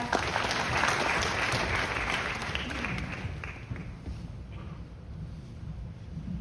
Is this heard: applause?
yes